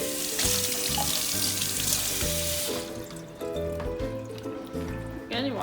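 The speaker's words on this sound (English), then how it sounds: "Again, you want to make sure you rinse it off." Kitchen tap water runs steadily into a sink while a can is rinsed, a loud continuous splashing with some gurgling shifts as the can moves under the stream.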